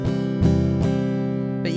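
Fender Telecaster on its acoustic pickup setting, a few sustained chords strummed with steady attack and ringing tails, played alone at moderate volume.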